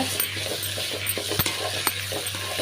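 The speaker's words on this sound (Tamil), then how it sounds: "தக்காளி வந்து நல்லா வதக்கிக்கிறலாங்க" Five tomatoes are sautéed in a pan for a roasted gram kuzhambu, giving a soft, steady sizzle over a low hum, with occasional sharp clicks and taps of a spoon stirring through the mixture.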